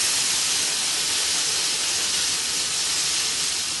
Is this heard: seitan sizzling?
yes